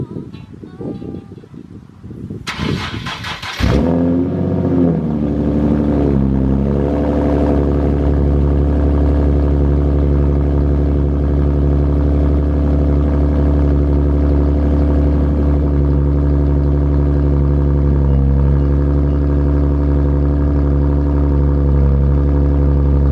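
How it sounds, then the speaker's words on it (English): Car engine cold start with no muffler installed: a short cranking burst catches into a loud, raw exhaust roar, briefly revving before settling into a steady, deep, rumbling idle. "I'm gonna go ahead and give you guys a cold start of what it sounds like now without a muffler."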